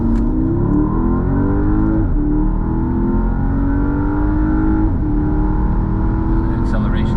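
A 680 hp Porsche Panamera Turbo S e-hybrid accelerating hard on the Nürburgring, engine pitch climbing loudly through successive gear changes with brief dips between them, heard close from inside the car.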